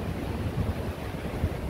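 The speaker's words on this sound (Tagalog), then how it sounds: "Sobrang lakas ng hangin." Steady, strong wind roaring across the microphone with a low rumble of surf underneath, continuous and loud, with no voices, at the seaside on Allassio beach, Italy.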